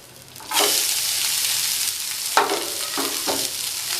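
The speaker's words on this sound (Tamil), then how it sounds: "வெங்காயம் நல்லா வதங்கிடுச்சு" Chopped onions hitting hot oil in a pan that already holds fried mushrooms, a loud sizzle bursting in and holding steady, broken by a couple of sharp stirring scrapes.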